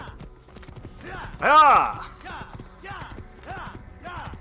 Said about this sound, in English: Galloping along.